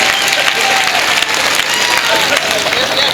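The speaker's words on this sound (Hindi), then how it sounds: "मजा आ रहा है तो एक बार ताली बजाकर बताएं यार।" Crowd at a Hindi kavi sammelan poetry recital claps loudly and continuously, a dense, even burst of many hands from start to finish.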